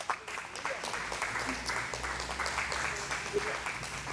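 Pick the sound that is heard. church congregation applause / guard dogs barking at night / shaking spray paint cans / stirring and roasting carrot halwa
church congregation applause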